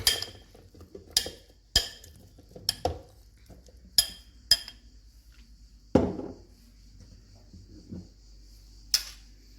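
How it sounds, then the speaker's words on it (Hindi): Mango pieces dropped into a jug for mango lassi, a series of sharp clinks and taps against glass and utensils at irregular intervals, close and quiet, with one duller thud midway. "अभी मैंने ये जग लिए है, इसमें हम आम को डाल देते हैं।"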